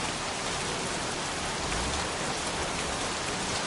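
Rain pours down steadily on a scrapyard in a video game, a dense, even hiss of drops striking surfaces that stays constant and loud from start to finish with no other sounds.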